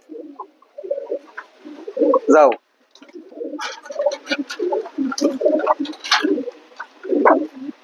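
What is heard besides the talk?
pigeon cooing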